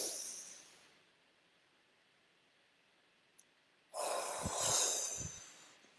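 A deep breath taken during a morning breathing exercise: a quiet airy inhale at the start, a long near-silent hold, then a loud forceful exhale with snorting breathy bursts close to the mic.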